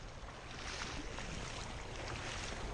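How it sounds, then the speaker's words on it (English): Water rushes and splashes steadily while people cross a river on foot, a faint, even broadband wash with no voices. "We're in a river."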